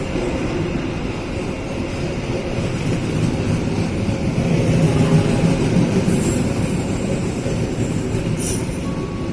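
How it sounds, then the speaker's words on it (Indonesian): The Argo Cirebon train pulls into Jatinegara station, a steady low rumble of rolling rail cars with brief high wheel squeals near the end, heard close and continuous without talk. "masuk kereta api Argo Cirebon jalur 4."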